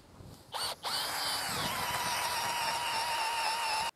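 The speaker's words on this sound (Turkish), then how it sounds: "Şuradan bir yerden de ortasına doğru delik deleceğim." A power drill bores a hole into a wooden log for a rocket stove, starting with a couple of short bursts, then a steady whining run that holds a few seconds before cutting off sharply.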